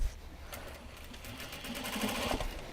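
A sewing machine stitches a fabric gyoza bag made from Japanese fabric, running steadily with a fast, even mechanical whir up close for a few seconds, without talk.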